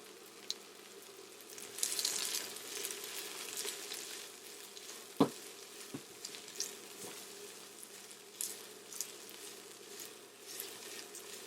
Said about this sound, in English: I'm sauteing this on medium heat